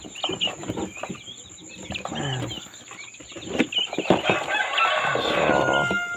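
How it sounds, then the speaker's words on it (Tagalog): Guinea fowl keets about two weeks old chirp and peep nearby in a busy, overlapping chorus of short high calls, with some rustling among them. "Guinea fowl kits."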